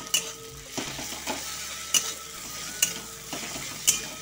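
A steady, soft sizzle of onions frying in a pan, with a few sharp scrapes of a utensil against the metal at intervals.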